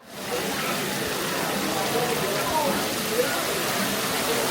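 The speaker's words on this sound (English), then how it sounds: "It's raining now in the Tonga Room." Steady rain pours down inside the Tonga Room, a tiki bar, as a continuous broadband hiss that holds at an even level throughout with no clear break.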